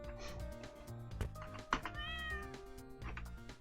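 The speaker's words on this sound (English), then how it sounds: "oh my god, that is such a cute cat." A cartoon cat in the game Catlateral Damage: Remeowstered meows over tonal game music, with a couple of short, close, high mews standing out briefly against the melody.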